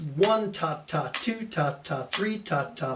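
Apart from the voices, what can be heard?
None of the usual background noises is heard.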